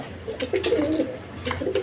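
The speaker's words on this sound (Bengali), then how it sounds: "এখানে আরেক পেয়ার কবুতর আছে হাই ফ্লাইং গিরিবাস কবুতর" High-flying Giribaz pigeons coo in a couple of short, low warbling phrases, close by over a faint background hum.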